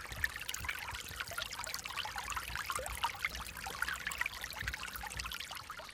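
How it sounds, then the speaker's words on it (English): Small stream of water dropping an inch or two over a leaf or twig along a Pennsylvania roadside, a steady close trickle with bright, bubbling, musical splashes running continuously. "A leaf or twig or some such blocks the stream and the water goes over it to drop an inch or two."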